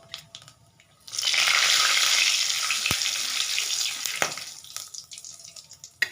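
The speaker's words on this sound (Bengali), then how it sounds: "এবার এখানে আমি ফোড়নের জন্য দিয়ে দিচ্ছি হাফ চামচ গোটা জিরে, দুটো শুকনো লঙ্কা আর 3টে" Whole cumin, dried chillies and cloves hit hot tempering oil with a loud, steady hiss and crackle, sustained for several seconds before easing off with a few pops.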